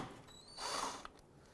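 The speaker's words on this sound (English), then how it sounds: "I'm going to remove the upper 10mm nut right here." A ratchet works the upper 10mm nut on the coolant reservoir of a 2001-2007 Ford Escape, giving a quiet mechanical whir and clicking with one small sharp tick near the end, heard alone and faintly.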